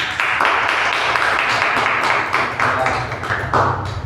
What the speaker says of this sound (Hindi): एक बार जोरदार तालियां हमारे इन कलाकारों के लिए